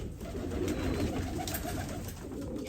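Dönek and kelebek pigeons cooing together in a loft, soft overlapping burbling coos at close range, continuous and fairly quiet.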